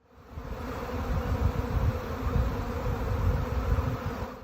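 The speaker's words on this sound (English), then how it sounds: "a man set a Guinness World Record by covering his entire body with hundreds of thousands of bees" A huge mass of hundreds of thousands of bees covering a man's body buzzes in a dense, steady drone. The swarm is loud and close, and the hum swells slightly without pause. No voices are heard.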